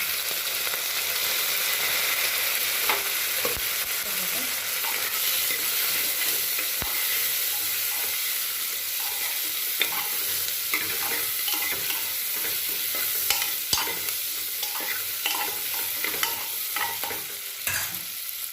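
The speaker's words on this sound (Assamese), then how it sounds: "মই ইয়াত কাটি থোৱা আলু আৰু ভাতকেৰেলা দিছোঁ, একেলগে ধুনীয়াকৈ ভাজি ল'ম" Steady oil sizzle and crackle from potatoes and bitter gourd frying, with occasional clicks and scrapes of a spatula stirring, close and continuous throughout.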